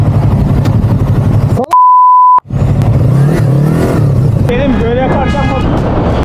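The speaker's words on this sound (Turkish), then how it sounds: "Ha, korna çalalım sana, korna." A steady horn blast sounds amid motorcycle traffic, loud and close, lasting under a second, with engine noise and a voice talking around it.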